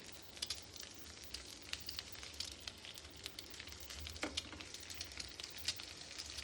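Sliced eggs roasting in a pan give a steady, quiet sizzle with scattered crackling pops throughout, no voices present.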